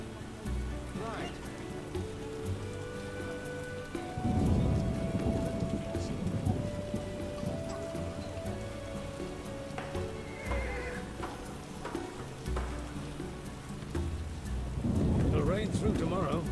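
Steady rain in The Witcher (2007) hisses beneath background music while a nearby horse whinnies and snorts and hooves clip-clop in bursts near the start and end.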